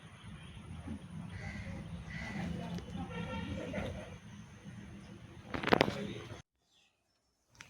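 Crows caw intermittently at a ritual food offering during an ancestral rite at a home, with a few calls over a murmur of background voices before the sound drops to near silence.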